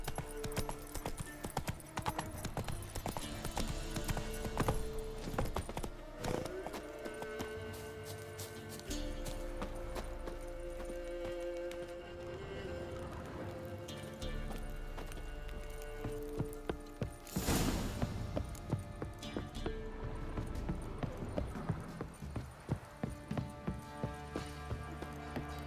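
In The Witcher 3, the horse Roach gallops with rapid rhythmic hoof clatter, close and steady throughout, amid game ambience and a brief whoosh midway.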